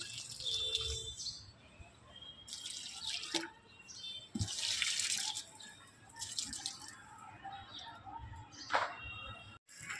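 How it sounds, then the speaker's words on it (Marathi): Tap water runs into a container in fitful bursts of splashing and trickling, fairly faint, with drips and brief gaps between pours and a bird calling softly nearby. "मी आता पाणी बदलून आणतो मित्रांनो. तर मग मित्रांनो, आपण पाणी भरलेलं आहे आता"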